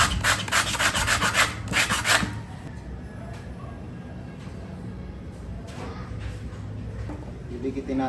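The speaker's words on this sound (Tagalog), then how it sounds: "Pero para sa akin guys, lilihain ko para magdikit talaga." A bottle cap is hand-sanded in quick, rough rubbing strokes for about two seconds, close and fairly loud, followed by quieter background noise with faint scraping.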